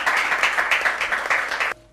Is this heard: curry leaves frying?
no